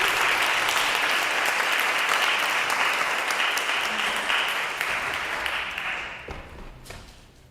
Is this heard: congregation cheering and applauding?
yes